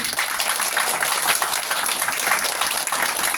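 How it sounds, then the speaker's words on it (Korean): Sustained crowd applause at a Korean political party's sixth founding anniversary ceremony, dense steady clapping throughout with no voices over it. "큰 박수 부탁드리겠습니다"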